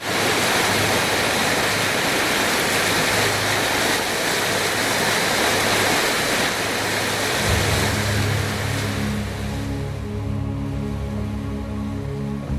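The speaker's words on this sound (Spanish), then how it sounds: "este es el sonido de sus aguas" Flowing water of the Nile river, a loud continuous broadband rush of moving water, steady throughout with a low hum joining in the second half.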